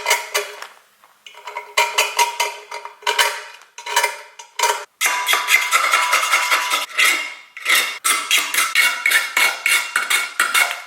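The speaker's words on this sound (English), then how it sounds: "a sharp razor blade is actually enough to help shave this aluminum down just a little bit" A sharp razor blade shaves down an aluminum piece in loud, close, scraping strokes that come in quick irregular runs with short gaps between.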